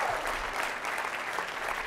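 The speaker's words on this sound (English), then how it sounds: "Give that a round of applause." A short spell of audience applause at a talk at Harvard University, a fairly soft, even patter of many hands clapping with no pause.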